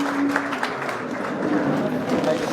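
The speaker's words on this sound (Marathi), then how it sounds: "आणि एकदा दादांसाठी सर्वांनी टाळ्या वाजवायच्या." Broad, steady clapping from a crowd of party workers at a political rally in Indapur, continuous throughout with voices mixed into the din.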